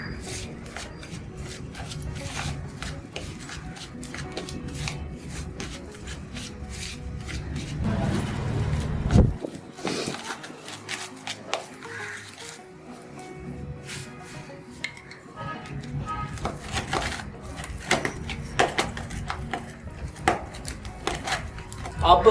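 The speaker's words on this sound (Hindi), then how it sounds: "तो अब हम इसको मिक्स करेंगे।" Rasmalai batter being mixed by hand in a bowl, with steady rhythmic clicking and scraping strokes that pause briefly near the middle before resuming.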